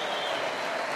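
Crowd applause at the close of a boxing match in Argentina, featuring a fighter from Trelew, a steady dense wash of clapping filling the whole moment at moderate loudness with no voices.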